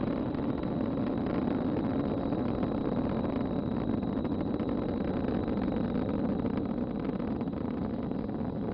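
A SpaceX Falcon rocket carrying a Dragon capsule toward the space station roars in supersonic ascent, a dense, unbroken rumble that holds at an even, fairly loud level throughout.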